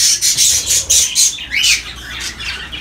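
A rapid string of harsh, piercing squawks comes from young rainbow and full-body greywing birds, close and loud, pulsing steadily before tapering into softer calls.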